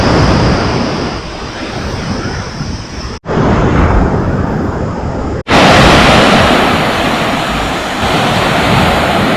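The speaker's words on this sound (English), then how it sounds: "Started walking on this part of the sand so I can have some sound of the waves" Ocean surf washes onto Kudle Beach in Gokarna, India: a loud, steady roar of waves with brief dropouts, and no voices.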